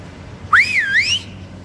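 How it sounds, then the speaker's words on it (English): A single sharp human whistle to hail a ride in Bangkok, rising and then swooping up and down, loud and close, against a quiet background. "That whistle comes in really bloody handy."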